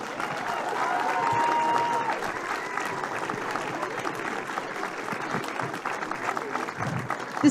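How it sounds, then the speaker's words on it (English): Sustained crowd applause for both camogie teams at a junior club championship final, a dense steady round of clapping from spectators at moderate distance, tailing off slightly near the end. "So can I get a huge round of applause"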